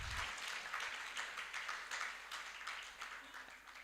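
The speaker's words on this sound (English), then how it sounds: "A very big round of applause," Audience applause welcoming the chief guest at a Uganda Learning For Life Programme graduation, a sustained wash of many hands clapping, moderately distant and steady for several seconds.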